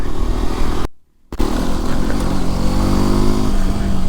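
A Hero Xpulse 210 motorcycle ridden offroad over loose dirt, its small engine droning loud and steady up close, with a brief cut near the start before the running engine resumes.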